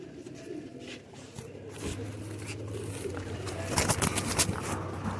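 Teddy Sialkoti pigeons coo in soft, repeated low throaty calls, close by, with wing flutters and rustling bursts and faint background voices.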